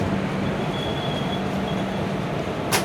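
Jan Shatabdi train with new LHB coaches, hauled by locomotive 22041, pulling out of Kozhikode station: a steady, broad rolling rumble of coaches with a faint tonal whine and a brief hiss near the end, no voices.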